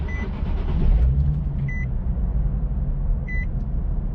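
A Nissan 370Z (Z34) sits running with a steady low engine rumble and broad noise, while a couple of short electronic chimes beep at intervals from the dashboard.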